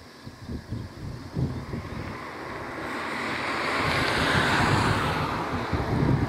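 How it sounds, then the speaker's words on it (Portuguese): Very strong wind gusting outdoors and buffeting the microphone, a loud rushing roar that swells and stays heavy through most of the stretch, with no voices. "Tá balançando um pouco a câmera porque tá um vento muito forte."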